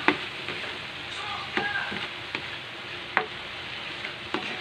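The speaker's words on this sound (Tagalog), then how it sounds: "lutuin lang natin mabuti itong ating kamatis" Tomatoes fry in a pan for a Filipino pork dish, giving a steady close sizzle broken by several sharp scrapes and clacks as a utensil stirs them, with no talking.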